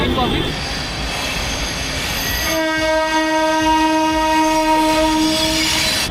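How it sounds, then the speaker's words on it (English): A train rumbles along the rails nearby in Jaipur, then a loud, sustained horn blares for several seconds over the steady clatter of the wheels. "Looks like the train has cleared all points. That's a swift movement."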